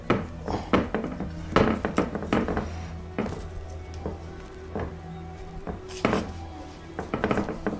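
Metal pan clanks and knocks against cooking utensils and a hard surface as cooking continues, several sharp, close contacts scattered irregularly with quiet gaps between.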